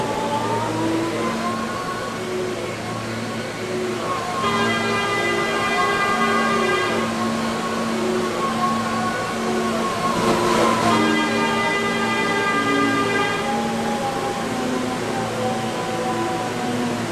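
Roblox R143 D Express subway train running between Central Blvd and 55 Street in a game, a steady loud rumble and drone with tonal motor whine rising and falling across the run, no talk.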